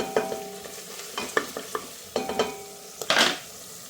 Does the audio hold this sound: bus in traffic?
no